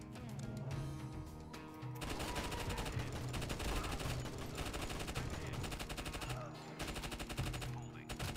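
Video game gunfire, a sustained volley of rapid shots with brief pauses, dense and loud throughout with layered echoing bursts.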